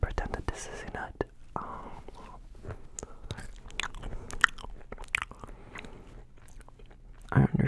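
A crunchy legume, eaten as if it were a nut, is bitten and chewed close to the microphone in a run of sharp crisp crunches and wet chewing, interspersed with soft whispering.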